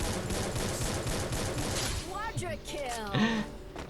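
Bursts of rapid gunfire from the Free Fire video game crackle under someone talking over the action, with the shots dense through the first half and then thinning.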